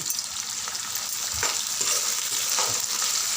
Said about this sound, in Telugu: రెండు రెమ్మల కరివేపాకు ఉల్లిపాయలు ఫ్రై అవ్వడానికి సాల్ట్